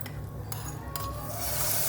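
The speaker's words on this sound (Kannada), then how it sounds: "ಒಗ್ಗರಣೆ ಹಾಕ್ಕೊಳ್ತಾ ಇದ್ದೀನಿ." Oggarane tempering sizzling in a pan while being stirred, a steady close hiss with two sharp utensil knocks and a sizzle that grows brighter toward the end, no voices.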